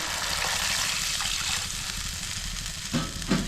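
Water pours steadily into a hot cooking pot with a hissing, sizzling rush, close by, ending with a couple of soft knocks.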